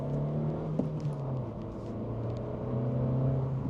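A 2025 Honda Civic Si's turbocharged engine pulls through a gentle, non-redline acceleration, heard from inside as a steady droning hum with slowly rising tones and no voices.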